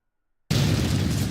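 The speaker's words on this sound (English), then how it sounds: "They are pummeled by cannon fire and mortar fire" Cannon and mortar fire in a Thirty Years War siege game, heard as silence and then a sudden loud booming blast whose dense roar holds steady to the end, close and with no talk.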